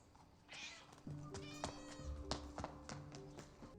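A cat meows repeatedly in short, close calls, several separate cries with soft taps and low background noise around them.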